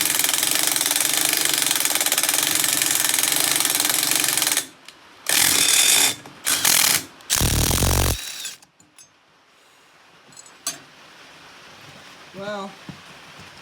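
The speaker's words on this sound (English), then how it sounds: "I kind of made my own flywheel puller right here, and I'm gonna try pulling it off." A homemade flywheel puller works the flywheel off a Weldanpower 130 welder. A loud, dense mechanical clatter runs for several seconds, then comes in short bursts with gaps, followed by quieter shop noise.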